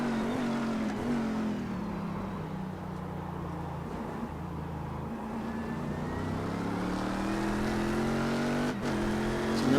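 Ford GT race car engine in the iRacing simulator, a steady droning engine note held throughout with slow rising and falling pitch, continuous and moderately loud.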